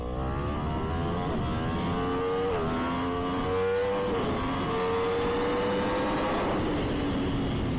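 A 2022 Yamaha R1M sportbike fitted with an Akrapovic exhaust accelerates hard uphill, its loud engine whine rising steadily in pitch with quick dips at each upshift, heard continuously under wind roar.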